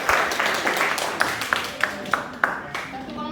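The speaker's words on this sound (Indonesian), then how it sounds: "Tepuk tangan untuk kelompok 3." Classroom applause for a group presentation, a rough mix of hand claps with several sharp, distinct claps standing out in a loose rhythm, the sound fading toward the end.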